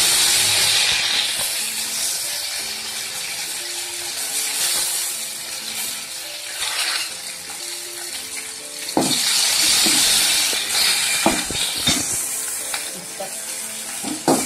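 Mustard seeds splutter in hot oil in a kadai, an irregular crackling hiss with sharp pops rising and falling over about fifteen seconds, with faint background sounds.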